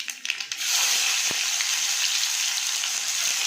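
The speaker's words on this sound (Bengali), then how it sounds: "আর আগে পেঁয়াজগুলোকে ভেজে নেব।" Onions go into hot oil tempered with black cumin seeds for an egg curry. A few light clicks come first, then a sudden loud, steady sizzle close by.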